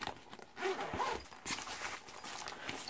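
A zipper on a scanner tool case is pulled open in a few quick, close rasping strokes with small handling rustles between them.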